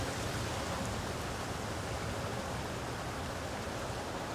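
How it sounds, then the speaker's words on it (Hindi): Steady, dense hiss of rain falling, unbroken and even throughout, with no voices. "हम दरवाज़ा खोलकर खुले आसमान के नीचे बारिश की अमृत धारा में अब भीग रहे हैं"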